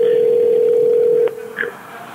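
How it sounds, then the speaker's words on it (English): A steady telephone tone on an intercepted mobile phone call sounds loud and clean, then cuts off abruptly, followed by a brief faint blip and a low hiss. "Now it's ringing."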